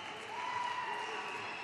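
A basketball crowd at a youth games semi-final applauds a made free throw, a brief wash of clapping and cheering heard at a moderate distance with a steady indoor murmur.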